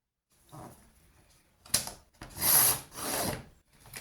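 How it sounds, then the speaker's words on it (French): Scissors cut a strip of scrapbooking paper in a few short, close, quiet snipping and crunching bursts separated by brief pauses. "Je prends derrière mon ciseau et je coupe la bande qui dépasse."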